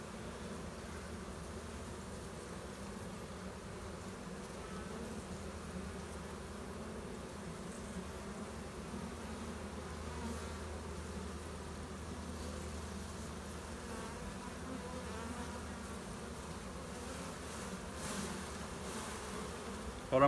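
Honey bees buzzing around an open hive during frame handling, a steady, dense drone of many wings close by, continuous and even throughout with no talking.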